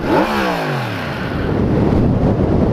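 Yamaha MT-10 motorcycle engine revs sharply then drops back, a loud close rising and falling snarl followed by a rough, throbbing idle.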